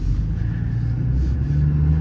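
A 2014 Ram 5500 4WD Cummins diesel truck with an IMT crane body and 191k miles drives along with a steady low diesel rumble from inside the cab, moderately loud and without talk.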